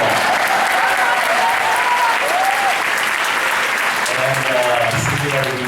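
Loud, sustained audience applause for a singer at a chorus reunion concert, many hands clapping continuously with whoops and voices rising through the crowd noise.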